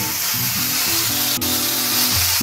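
A meal-kit steak sears in an oiled pan over medium heat, giving off a steady, loud sizzle and crackle that runs the whole time, with a brief scrape near the middle.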